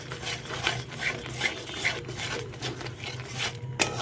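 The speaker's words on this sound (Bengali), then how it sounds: "এবার ভালোভাবে মশলাটার সাথে নাড়িয়ে দেব।" A spoon scrapes and stirs ground spices in a pan for a paneer masala, making a continuous rhythmic rasping and rubbing with soft repeated strokes and a sharp clink near the end.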